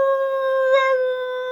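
A human voice imitates a howling wolf, holding one long, steady, tonal howl with a slight waver in the middle, clear and close with no other sounds.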